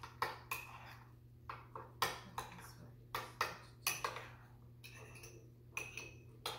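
A spoon mixes spinach artichoke filling with pepper in a bowl, giving a steady run of light clinks and scrapes against the bowl with no voices.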